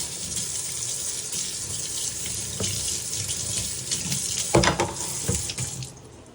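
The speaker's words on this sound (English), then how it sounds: "While that's cooking, you can start washing off some of your stuff." Cooking utensils and a small measuring cup are rinsed under a running kitchen tap, a steady hiss of water with clinks and splashes of handled items around the middle, fading out at the end.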